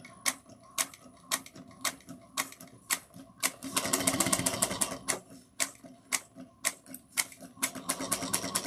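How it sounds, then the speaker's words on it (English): A sewing machine stitches the seam of a zipper pouch at a quarter-inch allowance, with rapid rhythmic mechanical clicks that blur into a brief continuous whir midway before slowing to spaced ticks, close and with no talk. "We're going to sew at a 1/4 of an inch seam allowance. Make sure you back stitch to lock in your stitches."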